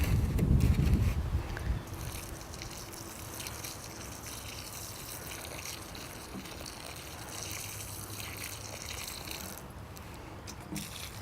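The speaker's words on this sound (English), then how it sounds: "And then we'll water that in as well." Water poured onto newly planted plants in a garden, a brief louder gush at the start and then a faint steady trickle and splash.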